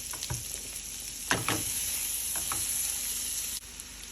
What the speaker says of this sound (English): On the same pan, let's add some butter. Let's add onion.